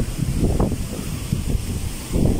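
Strong typhoon wind at the seashore buffets the microphone in heavy low gusts and rumbling surges, loud and close, with a brief lull before another blast.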